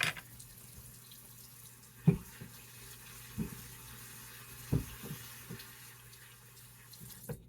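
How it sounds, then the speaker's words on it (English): Water runs steadily from a tap, rinsing grit off a sharpening stone for a razor, a faint continuous stream broken by a few soft knocks and splashes, with no voices. "I'm going to wash that off real good and rinse the blade off really good"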